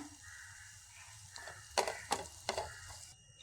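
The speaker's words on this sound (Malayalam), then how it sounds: "എന്നിട്ട് ഇതെല്ലാം ഒന്ന് വഴറ്റി കൊടുക്കാം" Ground spices, including chilli, coriander powder and garam masala, are sautéed and stirred in a pan over a soft sizzle, with three distinct scraping strokes of the spoon close together midway.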